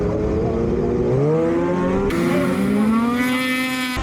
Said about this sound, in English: Decent jump off the line, and really just that skidoo horsepower was pulling pretty good.